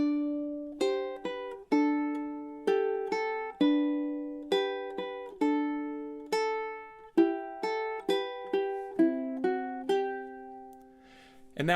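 A ukulele picks the melody of Waltzing Matilda, measures 14 to 16, as clear single plucked notes and brief two-note stabs in a steady waltz rhythm, each note ringing and decaying, close and alone with no talk.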